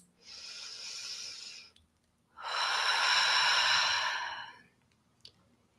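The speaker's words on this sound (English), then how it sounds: "I invite you to take a few cleansing breaths" Two long, deep breaths in a guided meditation, each a soft breathy exhale lasting over a second, close and clear against near silence, followed by a brief faint click.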